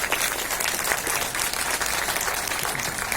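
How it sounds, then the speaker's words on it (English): Audience applause fills the room, dense and steady clapping from a crowd at a political gathering, loud and continuous without a break. "Put your hands up and then give a clap."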